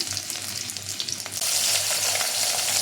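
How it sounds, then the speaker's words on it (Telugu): Onion and green chili fry in hot oil with cumin and grated garlic, giving a dense, steady sizzle with light stirring clatter close by; the hiss grows louder partway through. "ఆనియన్ పచ్చిమిర్చి ఒక ఫైవ్ మినిట్స్ ఫ్రై చేసుకోవాలి ఇవన్నీ మొత్తం ఫ్రై అవ్వాలి"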